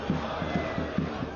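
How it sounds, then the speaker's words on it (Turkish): Galatasaray supporters chanting with banners at an open team training session, a dense crowd roar with rhythmic repeated shouted pulses, steady and fairly distant. "Şu anda pankartlarla, tezahüratlarla Galatasaray taraftarı da takımlarını destekliyor."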